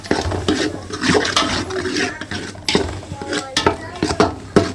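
Fennel seeds stirred in a cooking pan for a chicken curry, with a run of scraping, clinking strokes against the metal at an uneven rhythm, fairly close and moderately loud.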